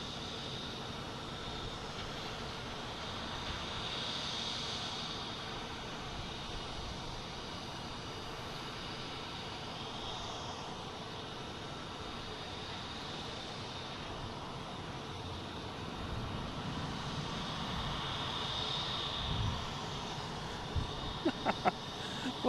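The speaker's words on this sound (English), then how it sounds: "Here's Delta Flight 2305 and A319 heading to Dallas-Fort Worth." A Delta Airbus A319 jet takes off at Boston Logan airport, a broad, steady engine roar heard from a distance that swells slightly over time.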